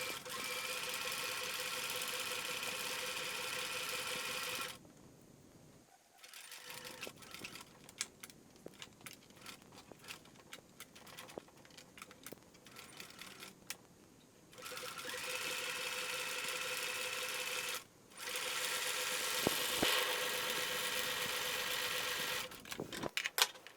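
A sewing machine stitches through fabric while turning a shoulder corner, its rapid mechanical whirr running steadily in bursts, pausing and restarting as the corner is worked, with faint handling clicks in the quieter gaps.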